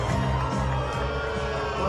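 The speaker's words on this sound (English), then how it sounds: "They're booing him at their own party." A crowd at a party boos a speaker, a steady, loud wash of voices that holds throughout.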